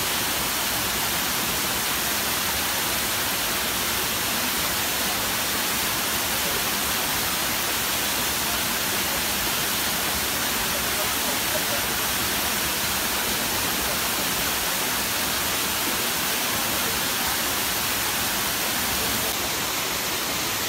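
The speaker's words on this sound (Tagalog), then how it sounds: "Ang pagbagsak ng tubig mula sa taas ng talon." Steady, broad rushing roar of Busay Falls in Bicol, water dropping from a tall falls, constant and fairly loud for the whole stretch, with no other distinct sounds standing out.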